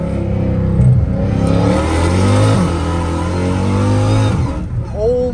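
Straight-piped Dodge Challenger Hellcat Redeye pulling hard through first gear at night, a loud, rising engine roar with climbing harmonics that fills the whole clip before easing off near the end.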